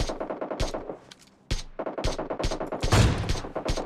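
Rapid bursts of gunfire from PUBG Mobile, with several sharp shots including sniper fire, fire in quick clusters after a brief lull, loud and close.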